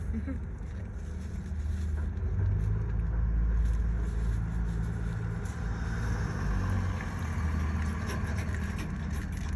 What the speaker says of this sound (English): I just seen a car pass by